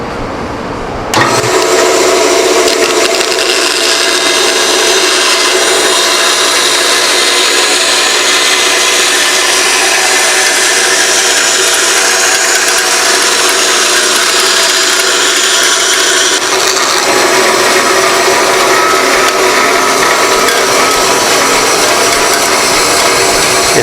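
A power saw cuts wood along a dashed pattern line with the piece held on a jig, shaping a pagoda box top; after a brief quiet start it becomes a loud, continuous whining rasp that shifts slightly partway through.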